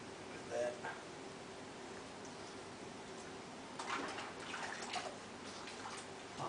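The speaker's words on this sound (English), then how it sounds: "I'm actually going to wash all that soap off my hands." Running water rinsing soap off hands, a steady broadband wash with a few louder splashy bursts, faint and close.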